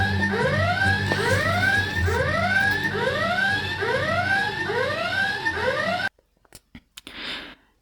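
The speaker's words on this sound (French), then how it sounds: "Nils, tu as déclenché l'alarme des secrets." Secrets alarm effect from a game show: a loud electronic siren whose pitch sweeps up and down in steady repeating whoops for about six seconds, then cuts off abruptly, leaving a few brief knocks and a short rush of noise.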